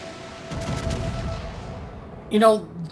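Battleship shells boom from a Montana in the World of Warships video game, a faint cluster of distant gun blasts rumbling early on, followed by a brief voice near the end.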